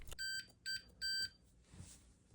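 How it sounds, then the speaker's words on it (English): A digital multimeter set to diode mode gives three short, high, steady continuity beeps in a quick, slightly uneven rhythm, quiet and close, followed by soft handling noise. "I'm just going to push the button and hear an audible beep"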